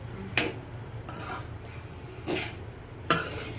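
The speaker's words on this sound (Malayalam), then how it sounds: "ഇനി ഇത് നല്ലോണം മിക്സ് ആക്കിയിട്ട് നമ്മൾ പ്ലേറ്റിലേക്ക് സെർവ് ചെയ്യാം" Fried rice being mixed in a pan, with a few sharp scraping clinks of a utensil against the metal spaced a second or so apart over a low steady background hum.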